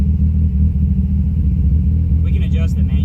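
Mazda Miata engine idling with a throttle position sensor fault, a loud steady low rumble with the idle settling down, close up, with a voice briefly at the end.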